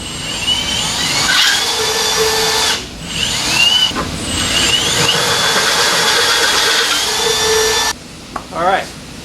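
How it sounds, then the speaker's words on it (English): A loud whining power drill bores holes in a metal plate in long bursts with short pauses, grinding with a rising and falling pitch, ending with a few brief squeals. "after drilling out the holes, plate fits now"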